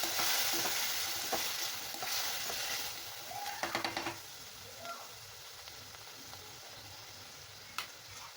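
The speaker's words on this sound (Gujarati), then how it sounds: "સારી રીતે મિક્સ કરીશું" Chickpea curry in a frying pan is stirred and mixed, with a steady soft sizzle underneath and a few scraping strokes and spoon taps standing out in the middle and near the end, with no talking.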